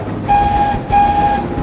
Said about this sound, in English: The sound of two whistles in the distance meant that someone was coming.